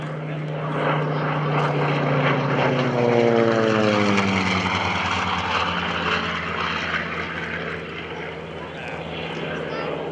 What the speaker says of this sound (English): Let's listen to the sound of that Wright Cyclone engine.